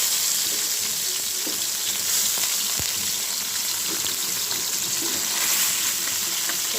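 Bele (baila) fish fry in hot oil in a pan, a steady, dense, close-up sizzle that runs on with no break and with a single faint clink partway through.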